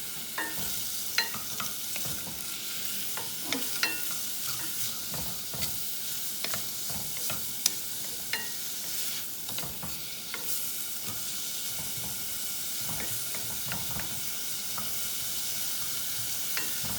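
Onions seasoned with salt and pepper sauté in a pan, a soft continuous sizzle broken by frequent stirring clicks and scrapes of a utensil against the pan, with no one talking.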